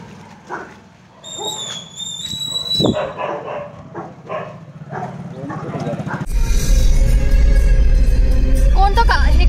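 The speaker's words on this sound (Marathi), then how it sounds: "कुत्रे बी भुकू राहिले तुला." Dogs bark along a forest road near a wildlife sanctuary, a few yips and barks mixed with people talking, followed by a loud rush of vehicle engine and road noise.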